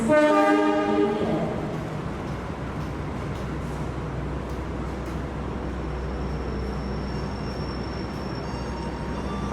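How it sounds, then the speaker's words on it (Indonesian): A train horn blares at the start, then a loud, steady rumble of the Pasundan train from Surabaya Gubeng rolling into the left-track platform of an Indonesian station, with a faint high tone lingering later. "Kereta api masuk dan telah masuk ke jalur kiri."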